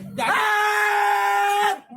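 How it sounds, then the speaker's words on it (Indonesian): A person lets out one sustained, piercing scream lasting over a second, loud and close, rising sharply at the start and then cutting off abruptly. "Apa sih lu teriak-teriak?"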